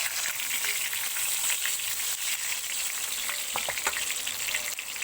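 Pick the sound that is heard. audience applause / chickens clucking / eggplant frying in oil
eggplant frying in oil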